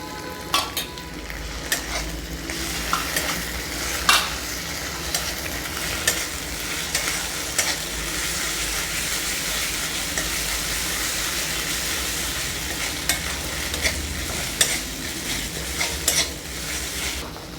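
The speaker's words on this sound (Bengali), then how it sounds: "পেঁয়াজ বাটাটা ভালো করে ভেজে নেব" Onion paste and spice paste frying in a pan for a red lentil dal, a steady broad sizzle with occasional spoon scrapes and clinks, close and continuous throughout, with no talking.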